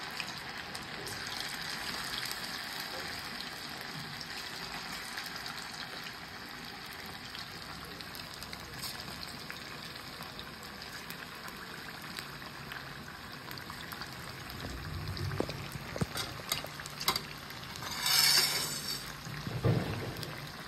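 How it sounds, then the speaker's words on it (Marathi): Chicken 65 pieces fry in hot oil in an iron kadhai over a high gas flame, a dense, steady sizzling hiss that continues throughout, with a few sharper crackles and spits toward the end. "फास्ट गॅसवरती तेल चांगलं तापून द्यायचं आणि मग हे तळून घ्यायचं आपल्याला"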